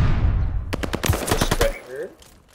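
Close video game gunfire crackles as a rapid burst of sharp shots in the middle. A low rumble comes before it and a voice follows.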